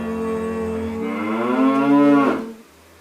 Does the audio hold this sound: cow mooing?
yes